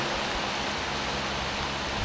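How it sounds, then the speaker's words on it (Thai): Dense, steady hiss of heavy rain pouring down, constant and enveloping with no breaks or voices. "ตกหนักด้วย ตอนนี้นะครับ นี่เราจอดรถหลบฝนกันอยู่ข้างทางนะทุกคน"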